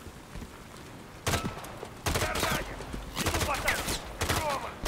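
Bursts of gunfire ring out in Call of Duty: Modern Warfare III as several shooters trade fire, with sharp repeated shots in clusters and a player talking quietly beneath.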